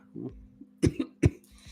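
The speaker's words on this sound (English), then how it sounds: "Oh my god, I am so over this cough." A few close, harsh coughs come in two or three bursts, with low background hum and a quiet pause before them.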